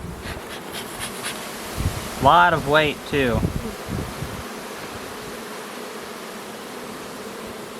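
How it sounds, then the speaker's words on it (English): Honey bees buzz steadily inside a hive box during a late summer split, a soft continuous hum under a man's brief spoken remark. "A lot of bees up in here."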